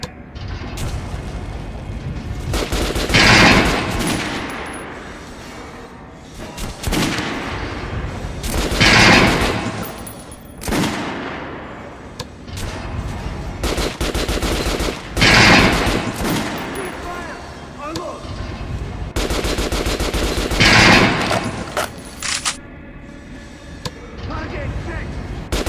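Gunfire in the Metro Last Light video game: bursts of rapid automatic shots come in four loud, spaced volleys, each ringing out with echoing booms, with quieter gaps between.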